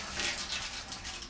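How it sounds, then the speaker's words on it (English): Water runs from a newly plumbed kitchen sink tap, a short steady hiss and splash close by at moderate level. "here comes some hot water"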